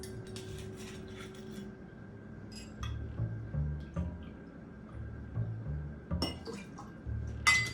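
Suze liqueur is poured for a Negroni Bianco cocktail, with a soft liquid trickle followed by light glassy clinks and knocks of bottles and barware, close and moderately quiet.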